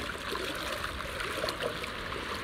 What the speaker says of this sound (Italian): Faccio una fatica a camminare qui nell'acqua con le gambe